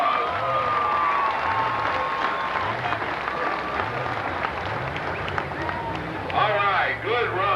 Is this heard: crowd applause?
yes